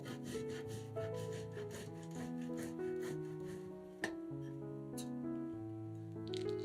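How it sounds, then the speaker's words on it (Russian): Cheese being rubbed on a fine grater, a soft, faint rasping of quick repeated strokes heard under background music with no talking. "Берем еще 50 грамм сыра и тоже трем его на мелкой терке."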